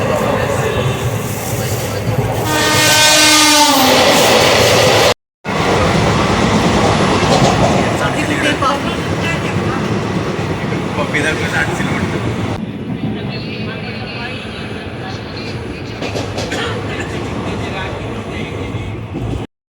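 Mumbai local train running loud and close, with steady rhythmic wheel clatter, a harmonic horn blast early on, a short break, then continuous rumbling rattle with voices talking over it.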